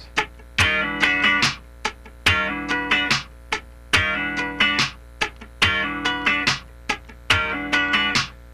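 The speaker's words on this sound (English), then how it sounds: "bring the right hand down and scratch the whole way," Electric guitar plays a funky repeating pattern of sliding chord hits filled in with continuous muted scratch strumming, steady and close.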